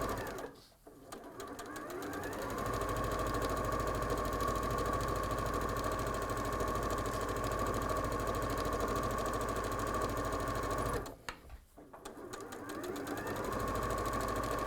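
Sewing machine top stitching a bag, a fast, steady mechanical whirr that runs in two long bursts with a brief stop between, close and even.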